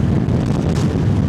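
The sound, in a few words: wind blowing into microphone while riding motorcycle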